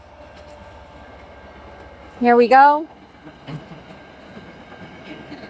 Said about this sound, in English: and then the train coming through.